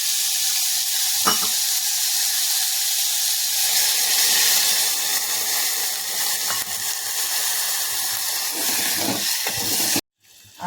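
Loud, steady sizzling and hissing of chickpeas in a hot pan just after water is added, with steam roaring continuously and occasional stirring clatters, cutting off abruptly near the end.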